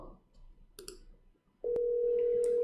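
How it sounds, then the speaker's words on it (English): An Asterisk WebRTC browser phone plays a steady electronic tone on a test call, switching on after a couple of clicks and holding loud and unbroken to the end. "Ringing. Call in progress."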